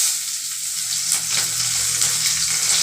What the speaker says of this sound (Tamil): எண்ணெய் காஞ்சி கடுகு போட்டால் நல்லா இருக்கும். பூண்டு வெங்காயம் தாளிப்பு